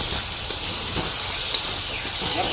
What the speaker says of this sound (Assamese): আটাইখিনি মিশ্ৰণ কৰি এতিয়া 10 মিনিট খুব সুন্দৰকৈ ভাজি ল'ম।